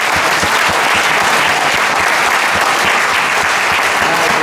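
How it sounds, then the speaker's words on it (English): Wedding guests applaud for the parents of the couple during a best man's speech, a dense, steady round of clapping that fills the room from start to finish without letting up. "if you could give the parents a round of applause"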